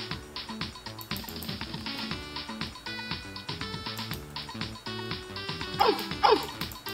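A cartoon dog barks in the video game Pet The Pup At The Party, giving two sharp, loud barks near the end over busy, bouncy game music.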